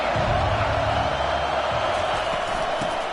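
A stadium crowd in a football video game roars as a steady, loud wash of noise that fills the whole stretch, with a commentator's voice faintly underneath.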